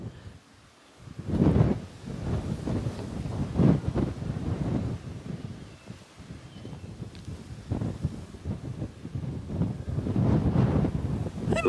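Gusty wind buffets a microphone on an exposed hilltop at an ancient village site, rising and falling in loud, rough surges with no talk.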